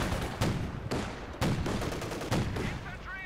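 Maxim machine gun firing in the World War II strategy game Company of Heroes 2, heard as four evenly spaced, loud rattling bursts with a few faint sounds in between.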